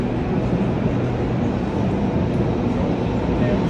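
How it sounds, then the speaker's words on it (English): An Athens metro train in a station gives off a loud, steady rumbling roar that holds evenly from start to finish, with no clear pauses. "The metro."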